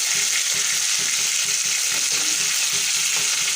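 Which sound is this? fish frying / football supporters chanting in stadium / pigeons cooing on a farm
fish frying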